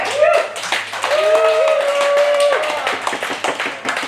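An audience claps and applauds after performers at an original music session, a dense spread of handclaps running throughout, with a tonal sound riding over the middle of the applause.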